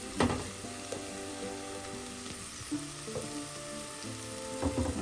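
Masala spice powders sizzle and fry in a pan for chicken mappas curry, with a steady sizzle and a few scraping stirs near the start and end, close and moderately loud, no talking.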